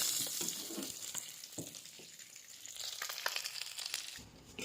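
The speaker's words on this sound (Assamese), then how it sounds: "এয়া মাছ ফ্ৰাই কৰি আছোঁ" Steady crackling sizzle of fish frying in hot oil, with occasional louder spits and pops, close and continuous throughout.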